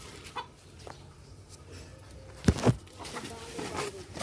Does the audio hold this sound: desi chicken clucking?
yes